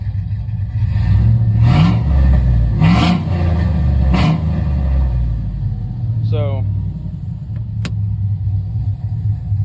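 The cammed V8 engine of a 2002 Chevrolet Silverado pickup rumbles loudly with a lumpy idle, then revs up in three quick bursts, each climbing and falling back. Voices talk over it briefly.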